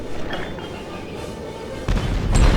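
A deep, rumbling boom from a bomb explosion in Lego Pirates of the Caribbean on Wii rolls through a steady low roar and swells louder toward the end.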